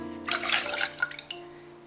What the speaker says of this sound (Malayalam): ഞാനിതിലേക്ക് 2 കപ്പ് വെള്ളമാണ് ഒഴിച്ചേക്കുന്നത്.